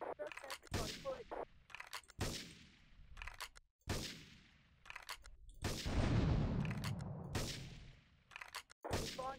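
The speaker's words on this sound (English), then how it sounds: "Investigate reports of gunfire and explosions." Bursts of gunfire and explosions in Grand Theft Auto 3, sharp loud cracks repeating irregularly with a longer rumbling blast in the middle, mixed with brief game sounds.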